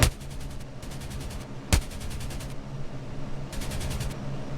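Machine-gun fire from the F-82 Twin Mustang in the Il-2 1946 flight combat game: several long rapid bursts of gunfire, loud and close, heard over steady engine drone.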